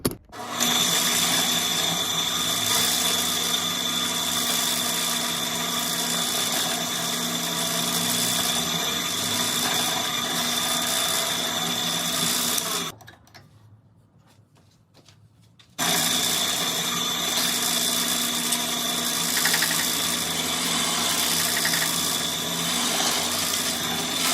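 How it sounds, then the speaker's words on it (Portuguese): An 18 mm hole saw on a power drill bores through wood with a loud, steady whine. It stops for about three seconds, then resumes at the same pitch for the rest of the stretch. "Aqui nós vamos utilizar uma serra-copo de 18 milímetros de diâmetro."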